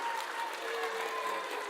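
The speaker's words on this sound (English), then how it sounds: "And a round of applause for this man" Applause from a crowd, steady clapping throughout, fairly close and moderately loud.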